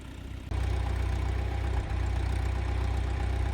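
A tractor engine idles close by, starting to run at a steady throaty rumble after a brief lower opening and holding an even, loud drone with a small dip partway through.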